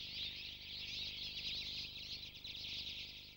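A twite, a small moorland finch, giving a sustained twangy, high-pitched call over a faint low hum, fairly steady with a slight dip near the end.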